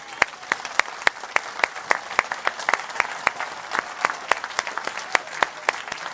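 A church congregation in Evry claps steadily in a fast, even rhythm, a dense run of sharp hand claps carrying on without voices over it.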